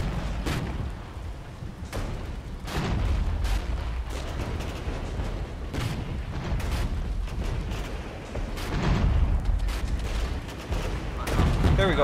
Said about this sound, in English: Let's get our artillery onto that immediately.